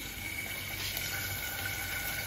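Chicken pieces dropped into hot oil, a steady dense hiss and crackle of deep frying holding at an even level throughout, close by and moderately quiet, with no voices.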